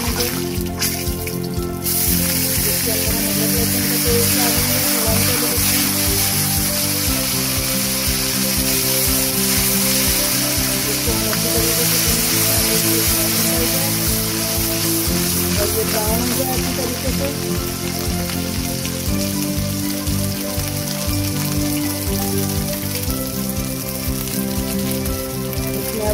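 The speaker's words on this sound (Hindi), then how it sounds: "इसको हम भूनेंगे, सब जीरा थोड़ा ब्राउन हो जाए" Cumin seeds roasting in a hot pan crackle in a dense, loud, continuous sizzle, like steady rain on a surface, with faint background music beneath it throughout.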